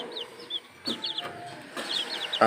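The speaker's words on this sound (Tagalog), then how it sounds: "silky yung hen, tapos yung rooster ay cochin" Silkie hen and Cochin rooster in a backyard breeding pen give short, chirpy clucks in a few scattered bursts, fairly close, with no talking.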